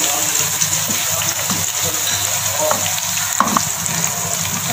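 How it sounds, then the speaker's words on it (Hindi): Spice paste for fried rice frying lightly in a pan gives a loud, steady sizzle that lasts throughout, with faint stirring and scraping beneath it. "तो हल्का सा फ्राई करेंगे, तो ज़्यादा ब्राउन नहीं करना,"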